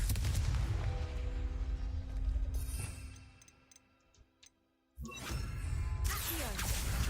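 A Confringo fire spell fires in Hogwarts Legacy with a loud whooshing, crackling burst and a dense roaring blast. The blast fades into a quieter lull, then a second sharp burst erupts and carries on to the end.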